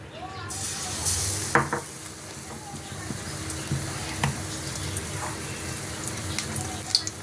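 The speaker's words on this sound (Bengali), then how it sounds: "এখন আমি এই ব্যাটারটার মধ্যে কুমড়োগুলো চুবিয়ে আস্তে আস্তে ছেড়ে দেবো" Pumpkin slices in batter hit hot oil with a loud burst of sizzling, then settle into a steady bubbling fry punctuated by light clinks and spatters.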